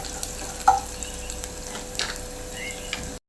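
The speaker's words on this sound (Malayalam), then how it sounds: "വറ്റൽമുളക് കൂടി ഇട്ട് നല്ലപോലെ ഒന്ന് മിക്സ് ചെയ്ത് കൊടുക്കാം" Two or three dry red chillies are stirred into a Kerala-style drumstick leaf curry in a pan, giving a soft continuous sizzle with occasional scraping stir sounds and a small clink.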